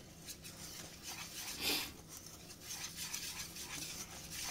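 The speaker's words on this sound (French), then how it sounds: "On y rajoute notre farine. On mélange bien." Flour being stirred into melted butter in a pan for a roux, as the base of a chicken and tomato lasagne sauce: a close, continuous scraping and rubbing of a utensil, with one louder swirl midway and no talk.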